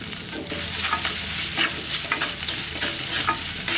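Onions sauté in a hot pan with a continuous loud sizzle, while a spoon stirs and scrapes in quick irregular strokes close at hand.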